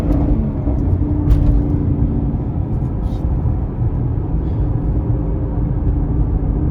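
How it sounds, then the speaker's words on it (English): A Ford Mustang GT 5.0 (S550) engine in a slow pull from 2500 to 5000 RPM, heard as a loud, steady low rumble and drone that continues for the whole stretch. "here's the first slow pull, 2500 to 5000 RPM"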